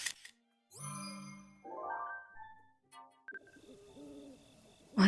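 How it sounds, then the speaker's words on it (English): Wood pigeon cooing in the video game Zelda: Breath of the Wild, soft hoots mixed with chiming game jingles and tones, the coos rising near the end over a quiet background. "Wood pigeon"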